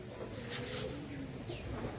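Pure Madrasi long-distance pigeons coo softly in a low, murmuring burble beneath a constant hiss of background noise, with no speech.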